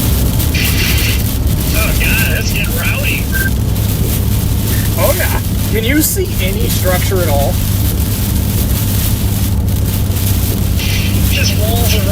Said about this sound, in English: Just walls of rain and extremely windy.